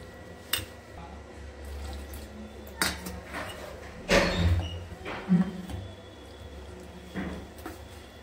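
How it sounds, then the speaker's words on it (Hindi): Water stirred into moong dal chilla batter in a bowl, with soft clinks of a spoon against the dish and faint sloshing at close range, no talk. "इसमें थोड़ा सा पानी मिक्स करेंगे।"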